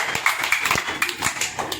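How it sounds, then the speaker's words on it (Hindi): Scattered hand clapping from a group of children, a quick uneven patter of claps lasting a couple of seconds, fairly close and moderately loud, with a little voice underneath. "सब ताली बजाए इनके लिए।"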